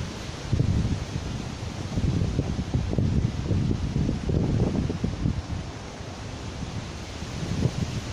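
Strong cold wind gusting across an open outdoor spot near an apple tree, a steady low roaring buffet against the microphone with surging gusts and no speech.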